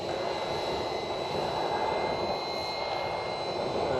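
A Fly Wing 450L V2 RC helicopter with its rotor head spooled up whines steadily at takeoff, a constant, moderately loud high-pitched drone with no talking.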